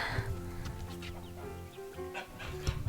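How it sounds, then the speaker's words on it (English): Several backyard chickens clucking close by, overlapping soft calls and a few higher squawks in a busy, continuous chatter. "They're out being chickens."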